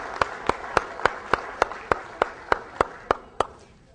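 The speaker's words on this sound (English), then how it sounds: "Let's give them a round of applause." Applause for presenters at a leadership coaching session comes as slow, evenly spaced sharp claps, about three per second, crisp and fairly close over a quiet room.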